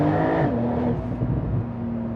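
A Techart-tuned Porsche GTS with a loud aftermarket exhaust roars up close as it downshifts, the engine note dropping in pitch and then holding a steady, throaty drone, with no talking.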